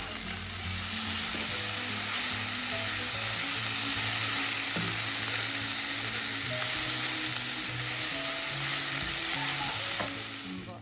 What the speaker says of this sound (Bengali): ওর মধ্যে আমি এখন ব্রকলিটা আর আলুটা ভেজে নেবো